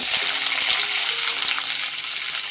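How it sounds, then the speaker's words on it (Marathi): Cumin seeds, curry leaves and onion hit hot oil in a kadhai, a loud, close, steady crackling sizzle with a few faint stirring knocks and no speech. "कढईमध्ये तेल गरम झाले, त्याच्यावर टाकूया जिरं आणि कढीपत्ता आणि कांदा हा पण टाकून घेऊया"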